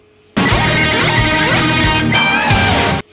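Electric guitar plays a fast, dense run from a solo, bright distorted notes tumbling in quick succession for about three seconds with a sudden start and stop, loud and alone.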